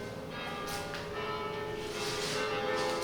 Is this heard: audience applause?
no